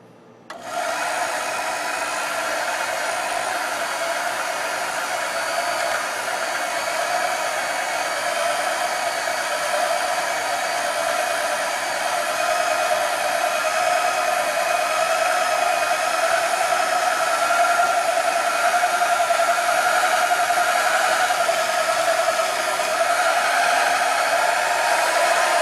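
A power saw cuts off a solid metal block in a home workshop, starting abruptly and holding a loud, steady whining drone with a bright tonal edge for the whole stretch.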